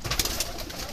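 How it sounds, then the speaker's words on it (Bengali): Domestic pigeons cooing at a pigeon farm in Bangladesh, a soft continuous burbling of several birds close by, steady and without talk. "কবুতরগুলো অনেক সুন্দর।"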